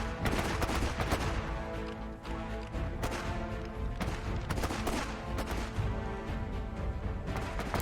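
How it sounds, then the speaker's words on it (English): Dense gunfire rattles through a Company of Heroes 3 battle over an airfield, with continuous machine-gun bursts, sharp rifle cracks and heavier impacts packed together at moderate volume, without speech. "Already can hear some shooting."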